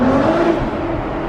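Nissan GT-R R35 with a custom exhaust revving hard inside a tunnel, a loud, close, echoing engine roar that holds steady before easing slightly.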